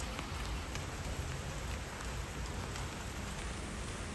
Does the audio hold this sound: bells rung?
no